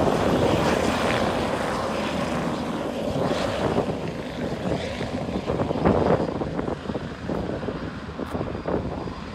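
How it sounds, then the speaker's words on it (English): A helicopter lands close by and then takes off again, giving a steady loud rotor and engine roar outdoors with wind buffeting the microphone. No one speaks over it. "Helicopter just landed right over there and just took right back off."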